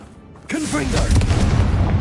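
A Confringo explosive spell in Hogwarts Legacy detonates with an abrupt booming blast, followed by a loud, rumbling roar, with a voice sounding over the start of the explosion.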